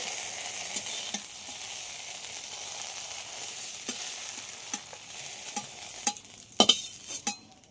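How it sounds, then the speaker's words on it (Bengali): Okra frying in a wok, a steady close sizzle broken by light scraping and tapping of a spatula that grows into sharper clanks near the end, with no speech. "ঢ্যাঁড়সটা খুব ভালোভাবে ভেজে নিয়েছি"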